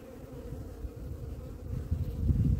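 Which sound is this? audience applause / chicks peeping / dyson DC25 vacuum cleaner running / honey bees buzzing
honey bees buzzing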